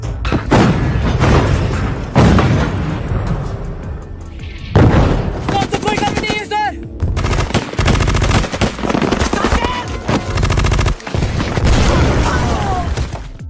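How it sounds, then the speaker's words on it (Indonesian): Intense gunfire fills a battle scene from the Hindi war film Lakshya: dense machine-gun bursts, single shots and heavy booming blasts overlap loudly, with dramatic music and shouting voices mixed in. "adegan baku tembak pun kembali terjadi"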